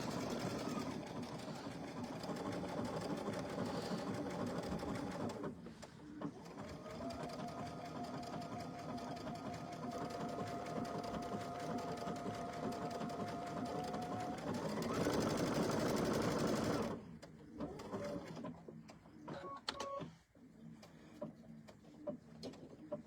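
A sewing machine runs steadily through a blanket stitch, a dense continuous mechanical whir that holds for most of the stretch before stopping, followed by lighter handling sounds and a brief voice.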